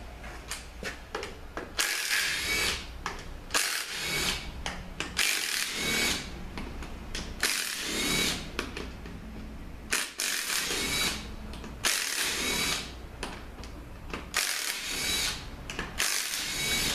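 Mechanical ratcheting and tool whirring while the pump is pulled from a 4T45E automatic transmission with a blown differential, in repeated bursts about every two seconds, close and fairly loud.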